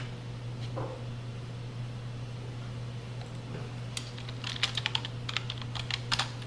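Keys clack on a computer keyboard, faint at first, then a quick burst of crisp taps grows denser toward the end over a low steady hum.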